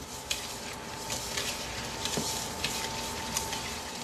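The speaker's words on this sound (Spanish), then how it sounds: "Y vamos a mezclar todo esto." A spoon works through crab cake mixture with finely chopped pepper in a bowl, giving soft wet stirring and light scraping with a few small clicks, quiet and steady with no talking.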